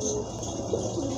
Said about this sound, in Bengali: দুইটাই পাথর চোখের কবুতর।